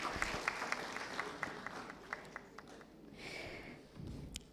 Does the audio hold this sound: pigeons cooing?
no